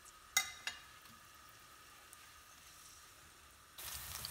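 Onions and curry leaves sautéing in a pan for a raw banana masala, a soft steady sizzle with a couple of sharp clicks early on and a louder burst of frying near the end.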